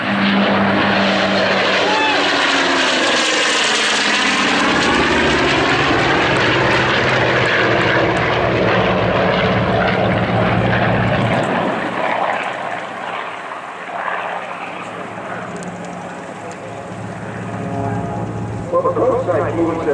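Pratt & Whitney powered propeller airplanes roar past at an aviation fly-in, a loud engine drone that rises, sweeps by and fades with shifting pitch while a voice talks over it.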